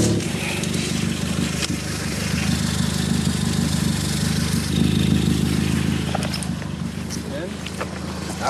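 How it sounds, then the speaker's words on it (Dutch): A car with a hole in its exhaust, engine running with a steady low, rough drone close by, while people talk over it. "Wil je de auto even starten alsjeblieft?"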